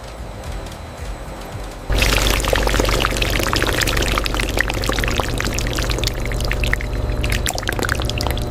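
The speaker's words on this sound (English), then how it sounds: "White soap pellets pour into the vat for the final fragrance addition stage." White soap pellets pour steadily into a factory vat for fragrance addition, a dense continuous rushing hiss that starts abruptly and stays loud throughout.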